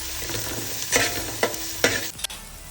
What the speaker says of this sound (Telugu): అల్లం వెల్లుల్లి పేస్ట్ పచ్చివాసన పోయేంత వరకు ఫ్రై